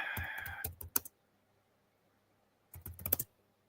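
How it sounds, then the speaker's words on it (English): Quiet, close keystrokes on a computer keyboard in two brief bursts of rapid tapping separated by silence, with a voice briefly heard at the start. "finish typing something very briefly."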